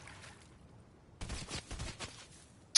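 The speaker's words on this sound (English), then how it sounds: "Then someone is shooting at us." Gunfire in Fortnite, a faint, distant patter of rapid shots in a short burst, with a sharp louder crack at the very end.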